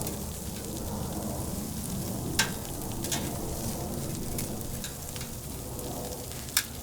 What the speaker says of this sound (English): you just want to rotate your steaks around the fire to ensure that they are coloring evenly